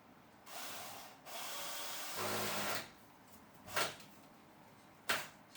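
A power screwdriver drives a big screw into a plastic wheelie bin: several short whirring bursts of motor noise, fairly close, separated by pauses, with a couple of sharp clicks near the end and no talk.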